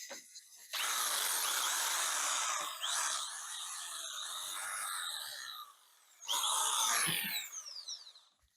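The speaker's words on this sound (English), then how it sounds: "Good old jigsaw. I didn't fancy cutting that shield out by hand." A jigsaw buzzes loudly through wood, cutting out a shield shape, in two long bursts with a short pause between, close by, with no talking.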